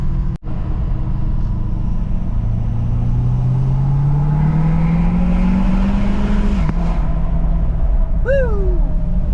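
A loud tuned 6.7 Powerstroke diesel pickup truck accelerating, pitch climbing steadily before a shift drops it, then rising again with a brief whine at the end.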